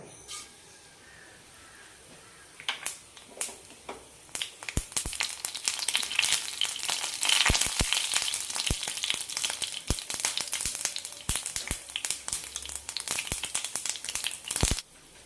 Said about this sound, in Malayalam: കടുക് പൊട്ടിക്കഴിഞ്ഞാൽ ചെറിയ ഉള്ളി അരിഞ്ഞിടാം